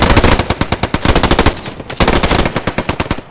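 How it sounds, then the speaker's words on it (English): Rapid bursts of machine-gun fire from a gunner in the World War II shooter game Post Scriptum, loud and close, a long burst, a brief pause, then another sustained burst. "You'll see this machine gunner shooting"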